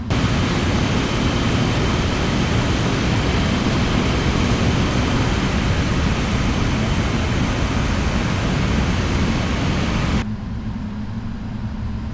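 Loud, steady roar of Boeing 777F jet engines in Microsoft Flight Simulator, a dense broadband whine held at a constant level during taxi before cutting sharply to a quieter hum near the end.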